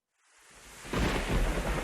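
Thunder in a visual novel game rolls in from silence, swelling into a loud, deep rumble with heavy rain-like hiss that holds strong to the end, alone without speech.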